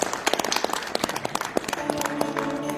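An audience gives brief applause after a traditional Korean chamber music performance at a forum. The scattered, moderately distant claps are followed by a sustained tone near the end.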